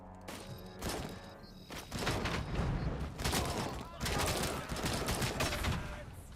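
Gunfire and blasts in the shooter game RoboCop: Rogue City, with loud booming bursts and rattling shots repeating over several seconds, a grenade explosion among them.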